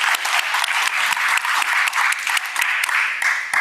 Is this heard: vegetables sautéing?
no